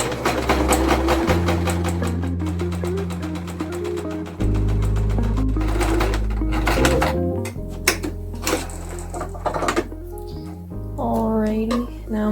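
A sewing machine zigzag-stitches across a stretched sweater, its rapid mechanical chatter running in several bursts with short pauses, close and loud, while a person talks over it.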